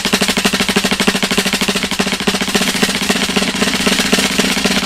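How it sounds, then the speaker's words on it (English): Closed double stroke roll played on a snare drum, a dense continuous buzz of rapid bounced strokes held steady and loud for the whole stretch with no pauses. "Closed long roll or closed double stroke roll."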